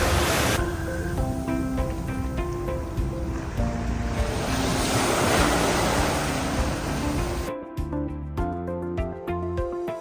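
Surf washes onto a beach at Baie de St. Barts, a continuous loud roar of breaking waves with some wind, close by. It thins into quieter wash in the last few seconds.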